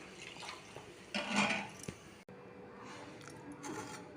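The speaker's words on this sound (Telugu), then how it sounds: "ఇంకా తేరు పోసుకుందామా." Homemade flower-infused hair oil strained and poured off, a soft liquid trickle and drip with light clinks of a metal pot and utensils, close and fairly quiet, no talking.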